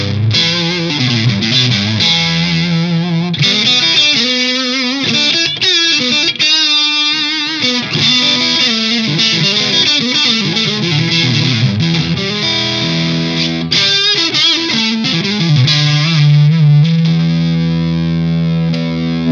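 An electric guitar runs through a Nobels ODR-S overdrive pedal, producing a loud, continuous, gritty distorted tone as chords and riffs are played close without pause.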